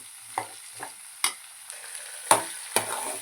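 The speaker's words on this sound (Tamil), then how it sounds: "அப்படியே கிளறி விட்டுட்டு ஒரு நிமிஷம் அப்படியே வந்து மூடி வைக்காமல் வந்து வேக வைங்க" Shallots frying in a pan for a bitter gourd kuzhambu give a soft background sizzle, with several distinct spoon scrapes and clinks as they are stirred at irregular intervals, close by and with no talking.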